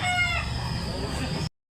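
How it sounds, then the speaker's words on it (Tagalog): A two-year-old rooster in Talisay, Cebu crows once, loud and close, a single sustained call that cuts off abruptly. "Andang manok."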